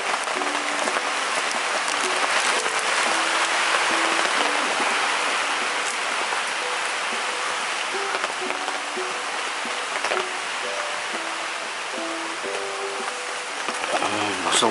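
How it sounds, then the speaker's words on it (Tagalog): Rain falls hard and steady on a family campsite, a dense hiss filling the whole stretch, with soft tonal sounds and faint background voices mixed underneath. "Lakas ng ulan, lumakas."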